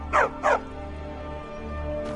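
Two sharp barks from a war dog in the video game Skyrim, set in the city of Markarth in the Reach, close and loud against a steady low game ambience.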